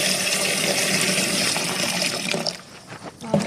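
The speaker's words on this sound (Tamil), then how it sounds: "நல்ல டேப் வாட்டர் திறந்து" Tap water runs from an open faucet while meat fat is washed off, a steady loud gush that thins out near the end.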